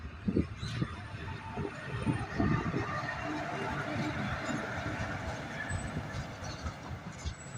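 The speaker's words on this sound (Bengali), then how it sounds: "বালুরঘাটে ট্রেন ঢুকছে, আপনারা দেখতে পাচ্ছেন" A train pulls into Balurghat railway station, a steady low rumble of rolling wagons with irregular wheel clatter and occasional high squeals, sustained and fairly near throughout.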